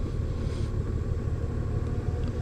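A 2018 Honda Goldwing DCT motorcycle downshifts while riding along a country road, its engine producing a steady, close, low rumble mixed with road and wind noise and no clear gear-change spikes.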